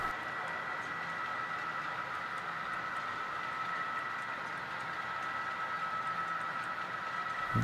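An HO scale model train hums and rattles steadily along its track over a model railroad bridge, a constant whirring drone with no pauses.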